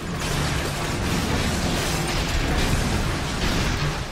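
A rocket launcher blast in the game inFamous rumbles as a loud, dense wash of explosive noise that holds steady for about four seconds, with no one talking over it.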